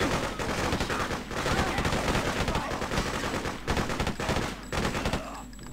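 Rapid automatic gunfire from a weapon in the video game Freedom Fighters, dense sustained bursts of loud shots with brief gaps between volleys.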